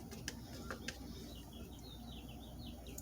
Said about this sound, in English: I hear birds. It's almost 5 o'clock. I hear birds.